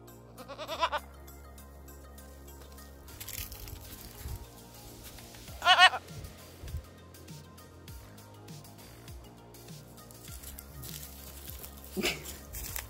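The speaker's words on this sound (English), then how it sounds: "You're a feisty goat." A farm goat bleats several times in loud, close calls spread across the stretch, while quieter rustling and shuffling movement fills the gaps.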